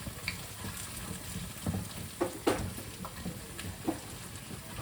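Thinly sliced bitter gourd and sliced potatoes fry in a pan, giving a soft, steady sizzle with scattered small crackles and pops, close and fairly quiet.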